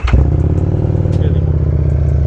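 A second-hand 750cc superbike engine starts on the self-starter and settles into a loud, close, steady idle with a deep throb, with some light mechanical clatter over it.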